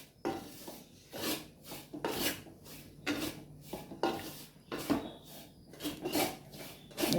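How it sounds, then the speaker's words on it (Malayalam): Rhythmic scraping strokes of a spoon through a rice flour and coconut mixture in a thick aluminium pan, close and fairly quiet, repeating about once a second with no voices. "മാവ് തേങ്ങ ചേർന്ന മിക്സ് നന്നായി ഇളക്കണം."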